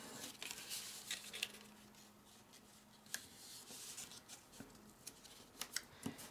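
Scissors snip through paper along a straight line while a mini shirt-and-tie pocket card is made, giving quiet, close, irregular crisp cuts and rustles with no talking.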